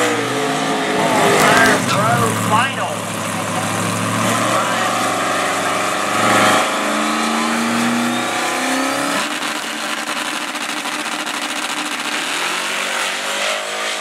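No-prep drag race cars roar down the strip at Beaver Springs Dragway, their loud engines revving and climbing in pitch through continuous launches, with a crowd-like wash behind them.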